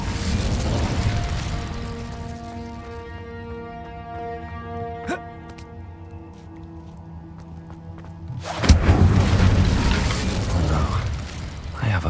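An Incendio fire spell bursting in Hogwarts Legacy, a sudden loud whooshing blast that cuts in after a stretch of droning, ringing mechanical game ambience and then roars on.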